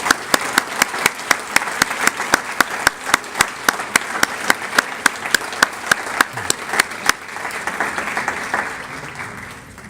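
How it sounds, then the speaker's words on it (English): Applause from a gathered audience honoring students at a high school event rolls on steadily, with one nearby person's sharp, evenly timed claps standing out before the sound thins into softer crowd clapping. "Let's give a well-deserved round of applause recognizing our students."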